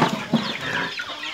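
A chicken clucks in short, close bursts, a few quick calls over about a second with scratchy background noise.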